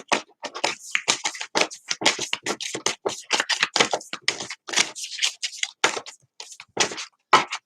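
A deck of tarot cards is shuffled by hand in quick, irregular bursts of crisp riffling and slapping, close and fairly loud, with brief pauses between flurries.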